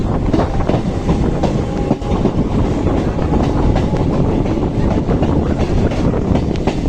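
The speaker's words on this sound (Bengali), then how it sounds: "এখন ট্রেনের স্পিড দেখব কেমন স্পিড দেখতে পাচ্ছেন প্রচুর স্পিড একদম ইলেকট্রনিক ট্রেন" An electric train pulls out of Gede station and runs at speed, with a loud continuous rumble and rattle of wheels on rails and steady wind noise throughout.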